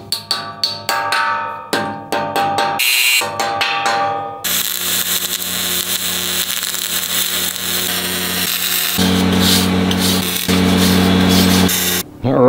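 MIG welding with wire on a steel mainsail yard: a steady, loud, crackling hiss that runs almost without a break, preceded by several short start-and-stop bursts of the arc.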